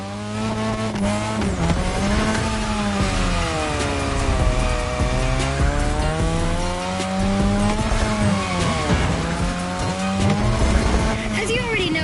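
Cars drifting around a drift track in a racing video game, with steady engine drone and tire squeal running throughout, under continuous music or commentary at a loud level.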